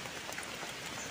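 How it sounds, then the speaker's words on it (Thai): Rain falls in a forest during mushroom foraging, a dense, even patter of drops that is faint and continuous, with no voices. "ฝนตกใส่หัว"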